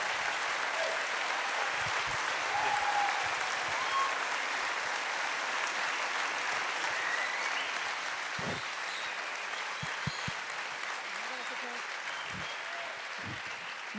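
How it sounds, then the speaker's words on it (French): Sustained applause from an audience at a public talk and debate, a steady dense wash of clapping that holds for the whole stretch at moderate distance, with scattered louder claps near the end and no one speaking. "Je vous demande encore une fois de les applaudir très chaleureusement"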